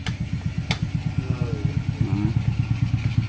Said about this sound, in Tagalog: Talagang okay na tong motor na to.